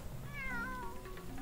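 Cat in LittleBigPlanet giving a single drawn-out meow that bends downward in pitch, clear and close over a low game background, with no talk.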